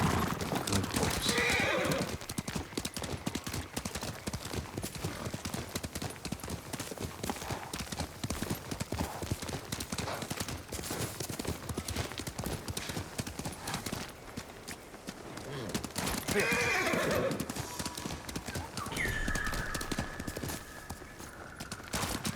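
Rapid hooves galloping in a continuous drumming rhythm in the video game Ghost of Tsushima Director's Cut, with loud horse neighs breaking out near the start and again later, all fairly close.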